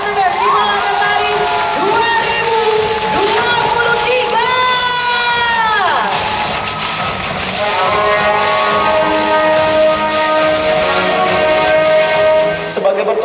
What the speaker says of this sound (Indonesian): Tepuk tangannya paling meriah untuk Festival Antasari